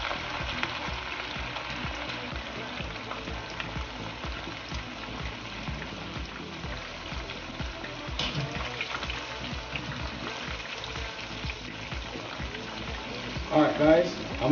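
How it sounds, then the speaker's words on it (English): Pork frying in a batch in hot oil, a steady close sizzle running the whole time under a person talking, with a louder surge of bubbling near the end. "I'm gonna fry this in about 2 batch"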